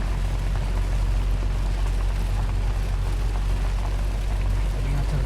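Heavy rain pours steadily during a drive through hills in a Mahindra Thar, a dense, continuous hiss over a low vehicle rumble, constant throughout with no clear talk.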